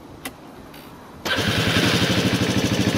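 A scooter engine cranks with a brief whir, catches suddenly and then idles steadily with a rapid, even putter close by.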